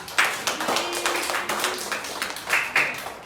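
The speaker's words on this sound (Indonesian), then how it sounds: "Buat tepuk tangan dulu buat kelompok 4." A classroom group claps for student group 4 after a presentation. The clapping is close and uneven, with distinct individual claps over a light round of applause, and a few louder bursts near the start and end.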